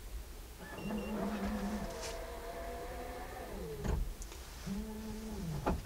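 A Hansshow powered auto frunk closes with a whining electric motor hum that rises, holds, then winds down, repeating in a second shorter run, with soft clunks as the lid shuts.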